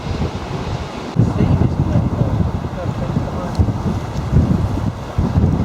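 Strong wind buffets the microphone beside Bray Lake, a continuous loud low rumble and roar with gusts swelling throughout and a faint watery wash underneath.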